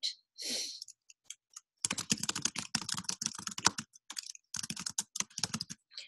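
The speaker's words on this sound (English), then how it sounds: "Okay, I'm just typing." Typing on a computer keyboard in a shell editor's insert mode: dense bursts of close, crisp key clicks in two runs separated by a short pause, with a faint breath or sigh near the start.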